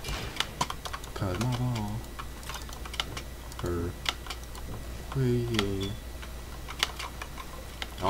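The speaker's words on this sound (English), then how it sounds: "I don't know if you can hear my keyboard" Close, quick computer keyboard typing clatters in irregular bursts during Roblox Arsenal gameplay, with brief spoken words over it and game sounds faintly behind.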